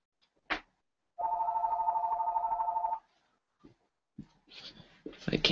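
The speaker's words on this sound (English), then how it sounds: "The phone's ringing." A telephone rings once, a clear warbling electronic tone lasting about two seconds after a brief click, followed by faint scattered noises and the start of some rustling.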